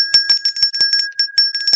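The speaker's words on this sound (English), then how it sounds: "And then, of course, we will ring the bell" A bell, rung during a fantasy storytelling segment about a crystal aquamarine dragon egg, chimes in quick repeated strikes with a steady sustained ring underneath, bright and close with no voices.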